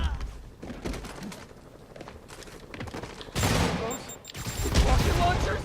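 Armed enemies open fire in Marvel's Spider-Man (2018): scattered gunshot bursts and louder volleys swell toward the end, heard along with game sounds and a talking voice.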